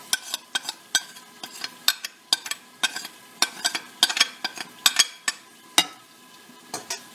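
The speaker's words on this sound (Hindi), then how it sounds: "ये सब मसाले इसमें हमने मिक्स कर देने हैं।" Spices being stirred into mutton liver in a bowl, a close run of sharp scraping, clicking strokes in an uneven rhythm, loud and alone with no voices.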